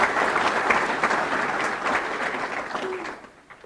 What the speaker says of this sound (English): How about a round of applause for our sponsors to make this night possible?